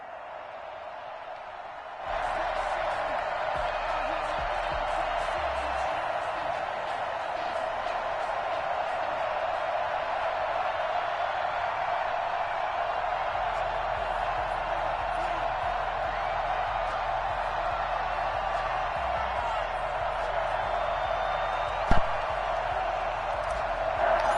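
A stadium crowd in a Madden NFL game before a Colts versus Bears matchup keeps up a steady, dense roar and murmur throughout, with one brief click near the end.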